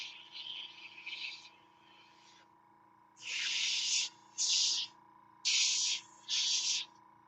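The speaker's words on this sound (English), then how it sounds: "so I'm just directing the spray" Airbrush spraying paint in a studio, in short hissy bursts: two softer sprays, then four louder blasts close to the mic, each about half a second to a second long, over a faint steady hum.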